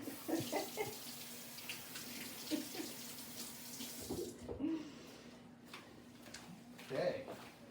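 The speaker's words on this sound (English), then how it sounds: "I'll just rinse my hands off" Hands being rinsed under a running kitchen tap after handling broccoli florets, water running and splashing at low level while a person talks over it, with a short pause in the flow midway.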